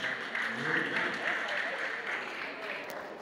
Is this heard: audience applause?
yes